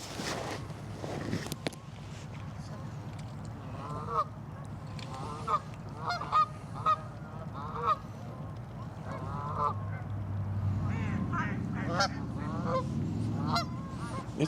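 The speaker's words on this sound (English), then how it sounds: "When you listen to the sounds the geese make, it's like really cool because they're making unique sounds." Geese honk repeatedly beside a pond, a series of nasal calls at varying distances, some overlapping, with a soft footstep-like rustle underneath and no talk.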